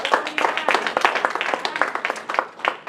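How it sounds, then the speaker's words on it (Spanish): A church congregation claps together, a lively run of sharp, uneven hand claps that carries on without a break. "Denle ese aplauso al Señor."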